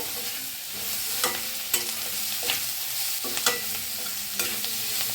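Chunks of paneer sizzle in a pan of hot oil, a low steady frying hiss punctuated by several spaced spatula scrapes and taps against the metal, heard close with no talking.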